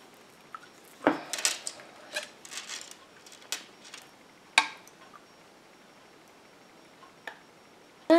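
Solid shampoo ingredients stirred in a container give sparse, quiet clicks and scrapes of a utensil, scattered irregularly with brief pauses and one sharper knock near the end.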